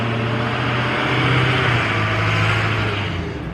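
A truck passes close by with a loud, steady low engine rumble and broad road roar that swells in the middle and eases off at the end, with no talking.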